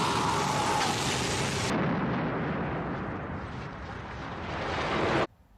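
A huge explosion in the Kamen Rider Kuuga TV series erupts as a loud, sustained rumbling blast that rolls on for several seconds, swells again near the end and then cuts off abruptly.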